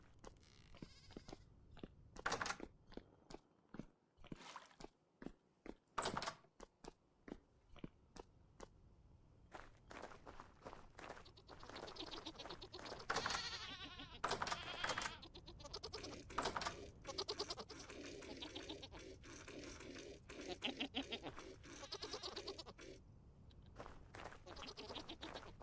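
Goats in the survival game Vintage Story bleat repeatedly in short, loud, wavering calls, several overlapping at times, with soft footsteps in between and no talking.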